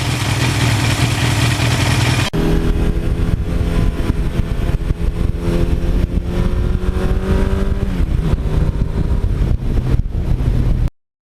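A 1982 Suzuki GS1100E motorcycle engine runs loud and close while riding, first a rough roar, then a steady drone that rises in pitch as it speeds up, with wind buffeting throughout.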